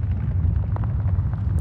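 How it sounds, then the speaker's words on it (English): A sound-library earthquake rumble of rocks in motion, used for deep film-score drones, produces a continuous low, heavy roar with faint gritty crackles above it, steady and unbroken. "this is a sound of, you know, an earthquake sound"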